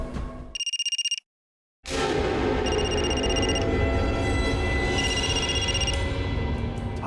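A telephone bell rings in a TV crime drama, loud repeated electronic trills in bursts, broken by a brief silence, over steady background noise.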